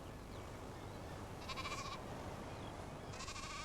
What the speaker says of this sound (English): This Jacob's sheep is a relative newcomer to the island.